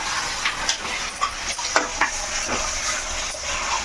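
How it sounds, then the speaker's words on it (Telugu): Masala chicken curry is stirred in a pot with chicken and fried onions in oil. Soft scraping and light sizzling run steadily, with brief clinks of the spoon, fairly close and without talk. "ఇగో ఇప్పుడు దీన్ని మనం బాగా కలిపేసుకోవాలి."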